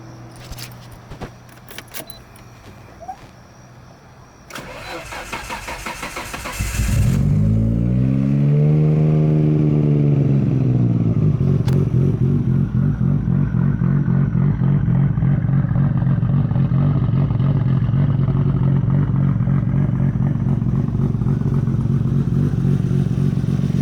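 A Nissan R32 Skyline GTR engine cranks and catches after some clattering and key sounds, then rises in a swooping rev before settling into a loud, steady, rumbling idle close by.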